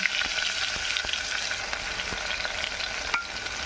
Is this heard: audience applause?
no